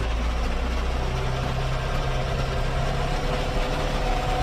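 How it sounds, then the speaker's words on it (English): 2010 John Deere 7130 tractor with its engine throttled up in low range, a loud, steady, close diesel drone that holds constant with no talk. "We'll go ahead and shuttle shift again. Throttle her up."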